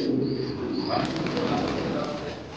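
Pigeons coo at a large fancy pigeon farm, soft low cooing under a continuous broad background hiss, with a person talking in the scene.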